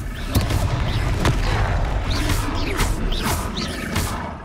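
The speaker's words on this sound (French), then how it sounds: "Oh, encore. Confringo." Repeated explosive bursts of the Confringo fire spell in Hogwarts Legacy, booming blasts with crackling, roaring tails sounding several times in quick succession during combat.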